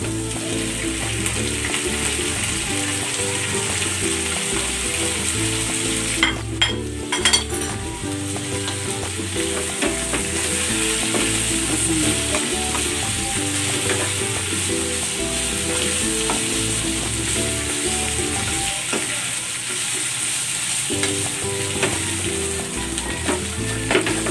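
Pieces of pork fry and are stirred in a hot pan, a loud continuous sizzle with occasional scrapes and light clinks of a utensil against the pan, steady throughout with no talking.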